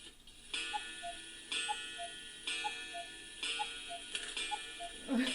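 A cuckoo clock ticks steadily in a quiet room, each soft, even tick spaced about a second apart, faint and close with no talking.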